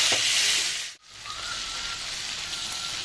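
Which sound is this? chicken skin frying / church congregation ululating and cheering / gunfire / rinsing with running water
chicken skin frying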